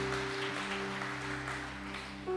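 Congregation applauding at an evangelical church service, a steady broad wash of clapping over sustained organ or keyboard tones, moderately loud and continuous throughout.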